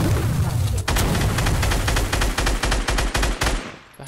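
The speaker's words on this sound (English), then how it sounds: "Oh, he's shooting my rocket." Rapid automatic gunfire in a video game, shooting down a guided missile rocket, dense bursts of loud close shots that run for several seconds before tapering off.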